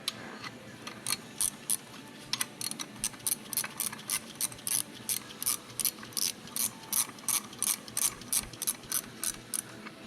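A hand ratchet clicks in steady rapid bursts, close and loud, as 18mm bolts are tightened on the timing cover of a Chevy Equinox 2.4, with repeated short strokes of pawl ticking and no voices.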